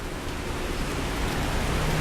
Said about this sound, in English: it really started raining while I was in there.